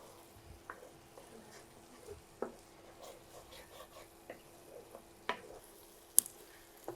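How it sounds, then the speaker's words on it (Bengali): Spice masala with salt being stir-fried in a pan for an egg curry, a faint low sizzle under scattered scraping and tapping strokes, quiet throughout. "স্বাদ মতো লবণ দিয়ে দিচ্ছি। খুব ভালো করে কষিয়ে নিতে হবে।"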